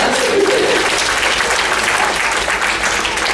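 Loud, sustained applause from a conference audience at the 2018 Missouri Institute on Minority Aging, a thick wall of clapping that holds steady from start to finish.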